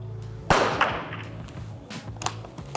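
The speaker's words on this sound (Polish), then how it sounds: "jak zamkniesz zamek, pada strzał" A single sharp biathlon rifle shot cracks out, followed by a few softer clicks and thumps against a low background hum.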